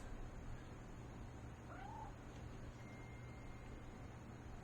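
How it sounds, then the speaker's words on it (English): A cat in the video game What Remains of Edith Finch gives a single short meow near the middle, faint and somewhat distant over a steady ambient hum. "It is a cat."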